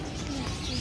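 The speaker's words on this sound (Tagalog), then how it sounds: "Ayan o, birds." Pigeons or doves coo softly in an outdoor setting in Malaysia, with a steady background murmur and low, continuous calls through the short stretch.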